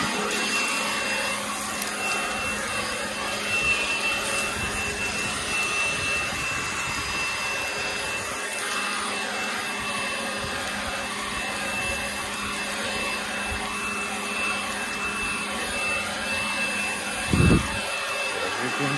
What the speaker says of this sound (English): he blows the leaves from the pavement right here